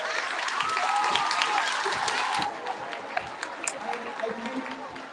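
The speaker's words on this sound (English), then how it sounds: "It's one more round of applause." Audience applause at the Sullivan Middle School awards celebration, dense steady clapping that thins out midway into scattered claps, with voices talking over it.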